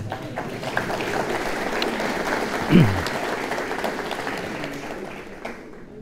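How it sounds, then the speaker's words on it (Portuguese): A crowd claps steadily during a church service, a dense wash of applause that carries on throughout and fades slightly near the end. "Vamos aplaudir essa palavra."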